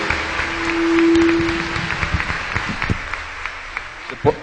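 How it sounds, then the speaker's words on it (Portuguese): A congregation at a Catholic Mass applauds the Holy Gospel with sparse, scattered claps that swell briefly, then thin out, under a short sustained tone. "Aplaudamos o Santo Evangelho."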